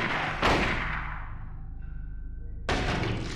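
Two rifle shots fired at enemies in the Silent Hill video game, each a sharp loud blast, the first decaying into a long ringing tail before the second hits about two seconds later.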